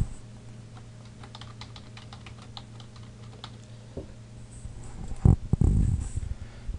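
Typing on a computer keyboard: light, steady key clicks over a constant low hum, followed by a few louder, heavier clacks and thumps near the end, all close and with no talking.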